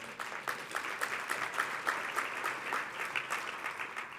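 A conference crowd at a closing keynote gives itself a round of applause, a fairly soft, sustained patter of many hands clapping with slightly pulsing rhythm.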